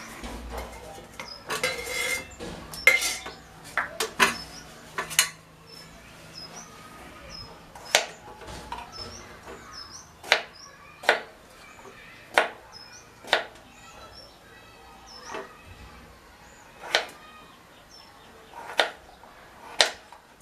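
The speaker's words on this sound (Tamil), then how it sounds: "இப்போ நம்ம உருளைக்கிழங்கை சிறு சிறு துண்டுகளாக கட் பண்ணிக்கலாம்." Sharp knife strikes on a cutting board, chopping potatoes into small pieces, about a dozen distinct chops at an uneven, unhurried pace, close by with no talking.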